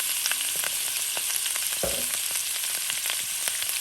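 Shrimp sizzle in a hot pan for a cauliflower stir-fry rice, a steady crackling hiss with a short scrape or clatter midway, close and continuous, with no voices.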